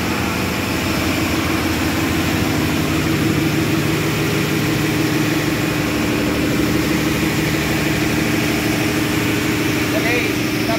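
Baudouin 6W105S auxiliary diesel engine running aboard the ship KM Sabuk Nusantara, a loud, steady, close-up drone with a continuous low hum and mechanical clatter throughout.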